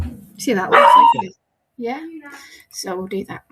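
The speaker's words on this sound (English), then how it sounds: "Sorry about the dog." A dog barks indoors in short, sharp bursts, close and loud, heard alongside people talking in a home craft setting.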